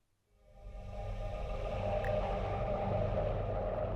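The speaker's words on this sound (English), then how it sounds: "that's a mixture of saturation, a bit of warble, and a bit of degradation" A murky, warbling string texture swells in from silence and holds, sounding saturated and degraded like worn tape, with wavering pitch and a muffled, filtered character.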